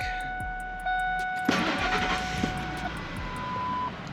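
A Ford F-150 FX4 pickup's engine cranks briefly and catches, settling into a steady idle, with faint electronic beeping tones in the background.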